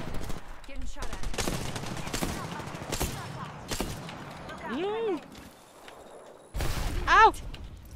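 Video game gunfire in bursts of loud shots, some rapid like a machine gun, with whooshing effects and speech mixed in over a busy battle backdrop.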